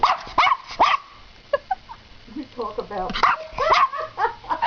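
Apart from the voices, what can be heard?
dog barking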